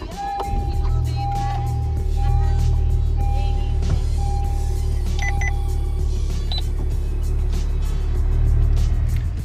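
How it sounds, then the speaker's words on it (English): A Honda Civic Type R engine runs at a steady idle, a loud close low rumble with a faint high electronic tone over it. "first step, start the car"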